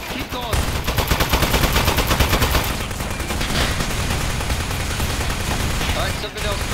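Rapid automatic gunfire from the Aperture Desk Job video game, a dense continuous stream of shots with occasional heavier bursts, loud and close, with a voice talking over it.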